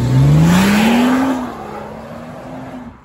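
BMW M140i Shadow Edition engine revving hard, a loud rising rev that peaks then falls back into a wavering high idle, close by with no talking.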